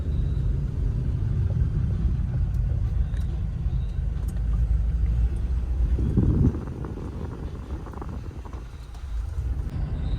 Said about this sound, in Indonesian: kita mau ngecek juga nih berapa konsumsi bahan bakar Jeep dipakai di jalan macet